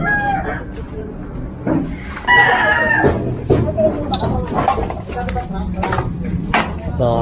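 Chickens and a rooster under a bridge among shanty homes, crowing and clucking at close range in irregular bursts, with people talking throughout.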